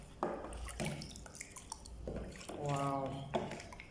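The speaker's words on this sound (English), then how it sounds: "I'm just going to pour it in, then mix it together" Squeezed fruit juice for homemade wine is poured and stirred in a few short splashy, dripping bursts, close and moderately loud, with a voice speaking between them.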